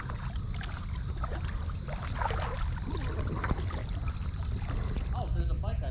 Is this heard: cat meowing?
no